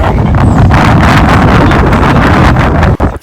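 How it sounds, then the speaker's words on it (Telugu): Strong wind gusts at the Ayutthaya temple in Thailand, roaring loud and close into the microphone as continuous buffeting rumble before cutting off abruptly. "ఇక్కడ మనుషుల్ని ఇసిరేసే అంత గాలి వేస్తుంది"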